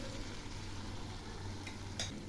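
A spice mixture is stirred and fried in a pan while cooking a Bengali potato and pointed gourd curry, a soft steady sizzle with a couple of faint scraping stirs near the end.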